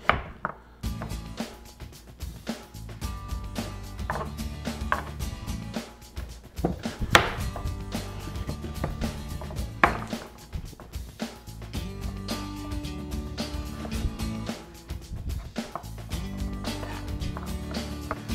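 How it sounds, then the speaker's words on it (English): A knife chops peeled potatoes and butternut squash into inch-thick cubes on a board in a home kitchen, a steady, fairly quick tapping rhythm that runs throughout beneath continuous background music. "we're going to cut these into cubes"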